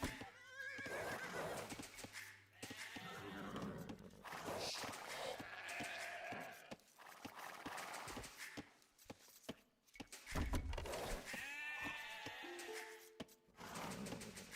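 Sheep bleat again and again in an Age of Empires match, mixed with horse neighs, hoofbeats and other busy game effects at a steady, cluttered level for the whole stretch.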